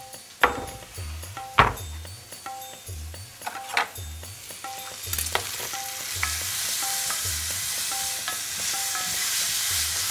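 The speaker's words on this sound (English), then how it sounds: "So on a medium to low heat, you're going to cook these onions." Onions with curry paste frying in a pan over medium-low heat, with a steady sizzle building underneath repeated stirring and scraping knocks and a few sharp clacks of a utensil against the pan.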